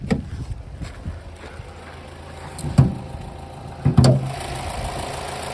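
An Opel Astra J engine idles with a steady low rumble, broken by a couple of brief knocks or clunks nearby.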